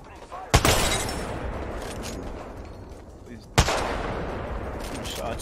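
Two heavy gunshots ring out in a video game, each a sharp loud crack followed by a long rumbling tail, spaced about three seconds apart.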